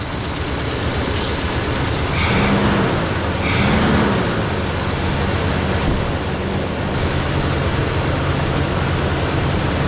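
A warmed-up Chevrolet Suburban engine idles steadily, close and loud with a smoky exhaust from a single tailpipe. Its low, constant rumble continues throughout with faint background noise and no talking.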